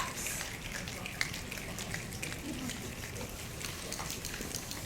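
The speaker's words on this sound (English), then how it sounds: "The sound of the raindrops." A soft, continuous patter of raindrops falling on a surface, steady and fairly quiet, with faint scattered drips standing out.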